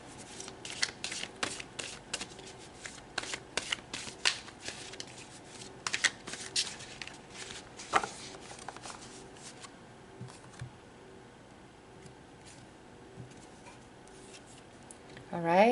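Tarot cards shuffled by hand in a long, steady run of quick papery riffles and slaps, close and fairly quiet, easing off near the end before a brief louder rustle.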